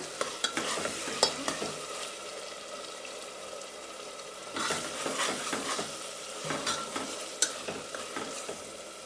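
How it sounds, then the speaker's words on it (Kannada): Steady scraping and stirring of a thick ground masala paste frying in a pan for mint pulao, with sharp clicks of a spoon against metal over a constant sizzle. "ಈಗ ನಾವು ರುಬ್ಕೊಂಡಂಥ ಮಸಾಲೆಗಳು ಸ್ವಲ್ಪ ಹಸಿ ವಾಸನೆವರೆಗೂ ಹೋಗೋವರೆಗೂ ಕೈ ಆಡಿಸ್ತಾ ಇರಬೇಕು"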